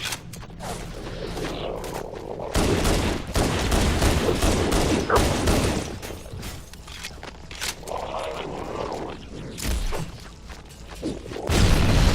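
Gunfire in the video game Halo Anniversary, a legendary-difficulty run of the mission 343 Guilty Spark with pistol and shotgun against the Flood. Dense bursts of shots and booms come in loud, busy waves with no talking.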